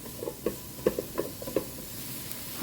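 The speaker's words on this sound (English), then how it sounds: "So I'm just going to stir these around and cook them just a minute" Mushrooms sautéing in a pan while being stirred, soft scattered scraping taps over a faint sizzling hiss, quiet and close.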